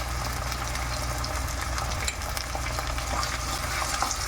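Thinly chopped onions with salt and fenugreek leaves fry in a pan, producing a loud, continuous sizzle close by, with scraping and stirring noises throughout and no talking.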